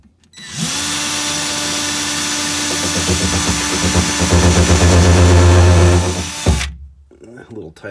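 A power drill whines steadily while working on a mid-century modern Heywood Wakefield drawer rail, growing louder and strained for several seconds before stopping abruptly.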